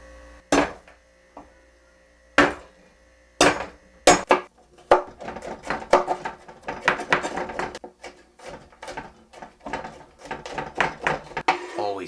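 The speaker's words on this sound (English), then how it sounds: "We're gonna do the garlic and cut it up." Knife chopping garlic on a cutting board for pork mole: sharp, uneven chops, a few isolated strikes that quicken into a busy, rapid run of close, crisp knocks.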